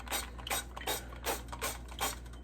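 A cooking pan gets sprayed with olive oil ahead of making soft tacos, heard as a series of short hissing spritzes in a quick, evenly spaced rhythm, close and fairly quiet.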